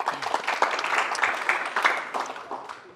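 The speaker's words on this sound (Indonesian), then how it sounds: "tepuk tangan dulu buat kalian semua." Audience at a live Indonesian stand-up comedy roast cheering with applause, a lively burst of many hands clapping with uneven peaks, plus a few faint voices mixed in under the clapping.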